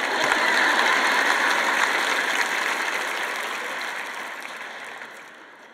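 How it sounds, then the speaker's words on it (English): Audience clapping at a recorded Christian talk event, a dense, steady wash of many hands that holds loud at first and then slowly tapers off over several seconds. "That's a good time to clap."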